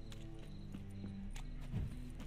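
Horse hooves clip-clopping in The Witcher 3 game, faint, quick steps over a few seconds with a brief louder snort or neigh-like sound near the end, quiet ambient game audio throughout.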